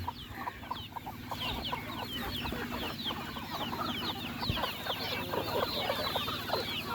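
Chickens cluck busily and continuously at a farm where a field is being ploughed, many quick overlapping calls at moderate distance over a low steady background hum.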